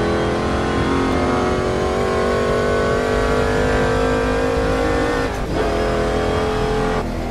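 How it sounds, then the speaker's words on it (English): A 600-horsepower 1963 Corvette Stingray V8 heard from inside the car on a Nordschleife tourist day, roaring steadily and loud as it accelerates hard, with a brief dip in the drone near the end. "The 63 Corvette Stingray. A fun car to drive."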